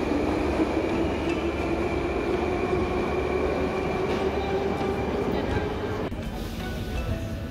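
A Tashkent metro train rumbles steadily and loudly at a station, with a constant low drone and humming tones that ease off slightly near the end, heard close up.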